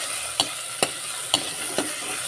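Squid adobo ingredients sauté in a pan, a low steady sizzle broken by a few sharp scraping stirs of a utensil spaced about half a second apart.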